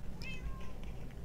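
A single short cat meow from the Minecraft video game, clear against a low background hum.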